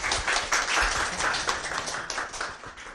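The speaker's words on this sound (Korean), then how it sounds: "선대인 소장의 일의 미래, 무엇이 바뀌고 무엇이 오는가 18분 강연을 큰 박수로 맞겠습니다." A lecture audience of about fifty people applauds to welcome the speaker, giving dense, steady clapping that carries on throughout and tapers slightly near the end.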